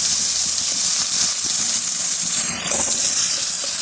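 Chopped tomatoes hit hot oil in a pan while cooking vegetarian aloo dum, giving a loud, steady, steam-like hiss that runs through the whole stretch with only a slight dip midway.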